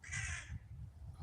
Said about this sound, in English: There's a lot of crows crowing.